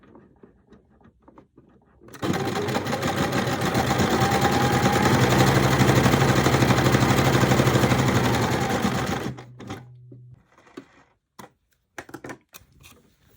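A sewing machine stitches a seam in linen shorts, running in one continuous, fast-rattling burst of about seven seconds up close, with quiet handling noise before and after.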